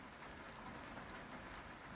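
Steady rain falls outside the veranda of Bentley Plains Hut in the high country, a dense, even hiss with scattered drop patter and no talking.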